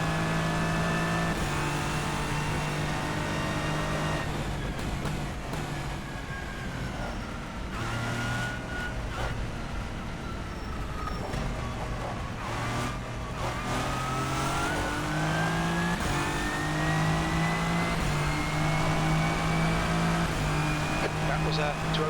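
Hypercar engine in the rFactor 2 racing game, revving high and steady with rising and falling pitch through gear changes, loud and continuous throughout.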